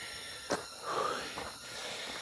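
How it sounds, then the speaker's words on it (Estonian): A hiker breathes heavily while climbing a long mountain staircase in Alishan, Taiwan: faint, close wheezing pants with a sharp snort-like breath near the start, over quiet outdoor background. "Võtab hingeldama küll."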